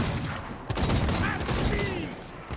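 A gun volley in a Total War: Warhammer battle: a ragged crackle of many shots fired almost together, loud and close, over a busy battlefield din.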